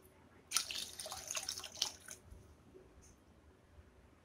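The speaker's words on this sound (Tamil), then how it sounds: "நான் வந்து 2 கப் தண்ணி சேர்க்குறேன்." Water poured into a pot of Chettinad-style fish curry, a short splashing burst of about a second and a half, close and fairly quiet, followed by near silence.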